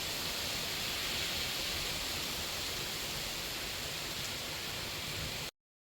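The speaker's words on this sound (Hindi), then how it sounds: "बारिश की जो पानी की आवाज़ आ रही थी आप लोगों ने वो भी सुनी" Heavy rain pours down during a thunderstorm, a dense steady roar of falling water that stays loud and even from start to finish, then cuts off abruptly near the end.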